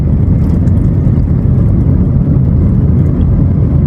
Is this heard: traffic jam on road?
yes